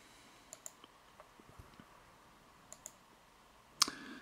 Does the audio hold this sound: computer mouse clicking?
yes